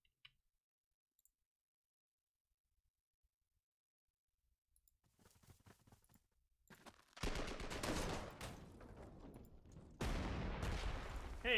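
Artillery fires in Panzer Corps 2, arriving after a near-silent stretch as sparse clicks, then building into loud, rapid bursts of crackling gunfire-like blasts that break briefly and resume.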